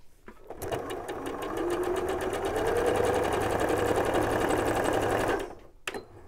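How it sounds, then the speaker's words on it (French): A sewing machine stitches small patchwork pieces in a chain for a Jacob's ladder quilt block, running as a loud, steady whirring hum for about five seconds before stopping abruptly, with a brief rattle afterward. "Vous les préparez tous ainsi et vous pouvez coudre à la chaîne."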